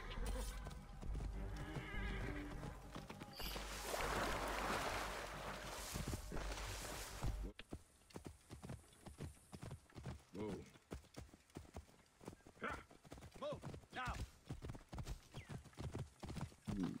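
Galloping hooves clatter in a fast rhythm alongside a horse's loud neigh, followed by lighter hoofbeats; effects from Assassin's Creed Origins with voices mixed in.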